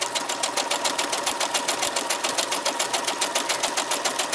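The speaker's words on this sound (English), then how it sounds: "we're just going to stitch this down" Sewing machine stitching quilt pieces together, a fast, even, rhythmic mechanical whirring with steady needle ticks throughout, close and continuous, with no voices.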